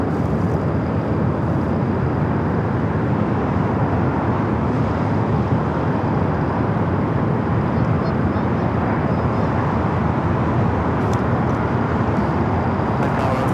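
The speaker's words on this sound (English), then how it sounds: "the Air France A350" An Air France Airbus A350 airliner at Los Angeles International Airport gives off a steady, loud broadband jet roar that holds evenly throughout with no break.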